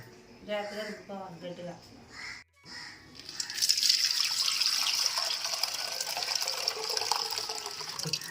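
Lentils being rinsed in water in a home kitchen while batter for chicken chilli fritters is prepared: a voice speaks at first, then a running tap splashes steadily, with crows cawing in the background.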